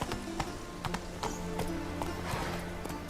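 Geralt's horse Roach gallops in The Witcher 3 video game, its hooves drumming out a steady, close clip-clop rhythm.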